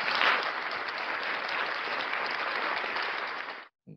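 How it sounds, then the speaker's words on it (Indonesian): A group claps loudly and steadily for several seconds before the applause cuts off abruptly, followed by a brief murmur. "Tepuk tangan dulu kuat."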